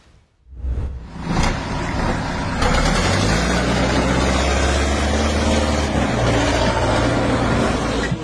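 A farm tractor's engine starts up and settles into a steady, loud, close running drone with a heavy low rumble.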